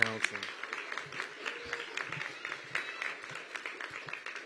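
An audience at a school district ceremony applauds the Teacher of the Year, a steady patter of clapping at moderate distance, mixed with some voices.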